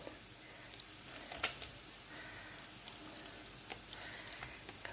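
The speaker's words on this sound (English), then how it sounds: "all we're going to do now is quickly fry our prawns in it" Fresh prawns frying in a pan of pasta sauce give a steady, soft crackling sizzle with a few sharper pops, moderately quiet and continuous.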